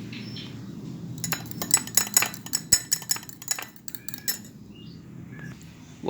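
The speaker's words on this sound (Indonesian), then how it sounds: "Untuk selanjutnya kita kacau dengan sendok garpu." A fork stirs egg yolk mixed with turmeric juice in a bowl. A run of quick, sharp metallic clinks and taps grows busy, then slows, heard close and alone over a low room hum.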